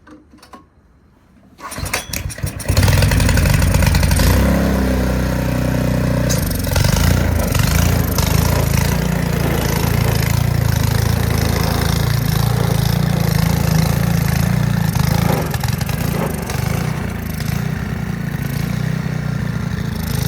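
A snowblower engine fitted with a new carburetor catches after a quiet moment and roars into a loud, steady run close by, its pitch wavering slightly as it settles, no voices.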